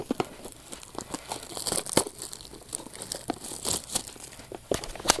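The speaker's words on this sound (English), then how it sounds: "This would be the easy way to get one of these things open. And I'm using my X-Acto knife" An X-Acto knife slices through the packaging of a trading card box up close, giving scattered crisp tearing and crinkling bursts of plastic wrap with quiet gaps between cuts.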